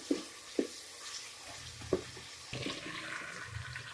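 Chopped onion drops into the same pan as frying chicken for masala bhindi (okra). A few clacks and knocks come first, then a soft, steady sizzle without talk.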